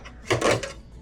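A short plastic click of a battery connector snapping into place on a 2004 Gen2 Prius battery ECU, one quick snap with a slight rattle, close and fairly quiet.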